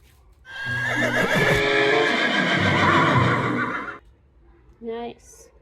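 A toy horse plays a recorded neigh, a loud, drawn-out whinny lasting a few seconds, followed by a short, quieter snort or second call.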